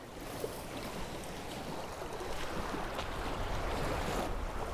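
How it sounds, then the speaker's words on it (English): Wind-driven waves slap and wash steadily against a fishing boat on choppy water in a wind advisory, a continuous broadband rush with no talking. "Oh no, no, it's just the waves, just the waves."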